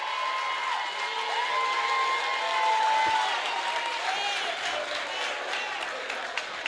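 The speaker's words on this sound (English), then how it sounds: "A round of applause." Steady applause from an audience fills a town hall at a public forum, with some cheering mixed in, sustained throughout.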